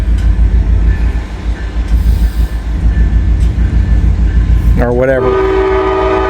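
A train rumbles along the B&O railroad in Wyoming, a loud, heavy rolling roar, then a sharp multi-tone horn blast near the end, with a brief spoken voice over it.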